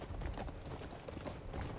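Horse hooves clip-clop at a run in the video game Crimson Desert, a soft, fairly faint stream of rapid, uneven beats over ambient game sound.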